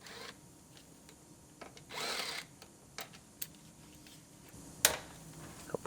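A power tool whirs in brief bursts while unbolting airbag hardware inside a 2017 GMC Terrain Denali, with a longer run of several seconds among clicks, taps and knocks from the work.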